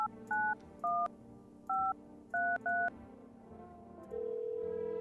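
Touch-tone dialing in the video game No, I'm Not a Human: six crisp two-note beeps tap out a number in uneven rhythm over quiet background music, then a steady ringing tone begins and holds.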